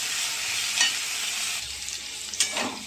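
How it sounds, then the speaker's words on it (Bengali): Okra and potato frying together in a pan with salt and turmeric, giving a continuous moderate sizzle with occasional stirring scrapes and clatter. "দেখো ভেন্ডি ভাজা হচ্ছে, ভেন্ডি আর আলু দিয়ে ভাজা।"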